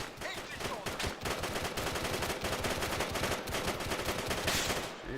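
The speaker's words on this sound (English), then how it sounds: "Enemy fire!" Sustained automatic gunfire in the military shooter ARMA 3, a dense, rapid stream of close, loud shots with the rattle of machine guns running continuously for several seconds.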